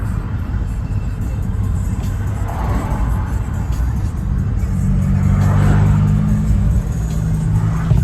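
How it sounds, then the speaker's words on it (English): A Subaru STI engine revs under boost nearby, a steady rumbling drone that rises in pitch toward the end, loud and continuous without speech. "I love boosting the shit out of my STI."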